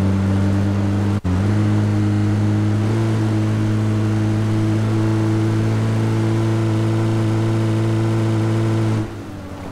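A car engine hums steadily at a constant pitch in PUBG, loud and continuous, with a brief dropout early on before it fades near the end.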